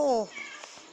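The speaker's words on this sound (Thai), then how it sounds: "โอเคเสียงแมวร้องอีก" A cat meows once in the Minecraft video game, a short, loud harmonic call at the start that quickly fades, followed by quieter faint game sounds.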